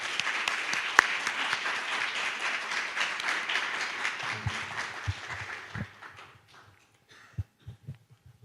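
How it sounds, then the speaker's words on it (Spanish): Sustained applause from a lecture audience welcoming speaker Alejandro Parra, with dense clapping that thins out and dies away into a few last scattered claps and soft thumps. "un fuerte aplauso para Alejandro Parra"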